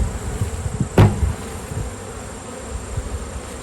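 A steady buzzing of many honeybees close by as they are shaken from a swarm trap box, with a sharp thump about a second in and a brief louder burst of buzzing after it.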